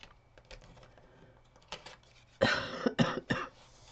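A few quick coughs close by, following soft keyboard clicks in a quiet room.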